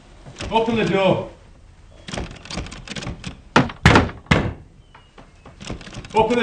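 Heavy fists pound on a wooden door in a period drama, a cluster of loud knocks then several hard, spaced thuds, with shouting voices around them.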